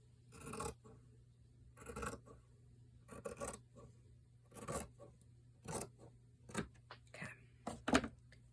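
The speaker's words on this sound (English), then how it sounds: "we'll try to cut as straight as possible" Scissors slicing paper for a journal cover, heard as a string of separate crisp snips and rasping cuts at irregular intervals, close and fairly quiet against a low steady hum.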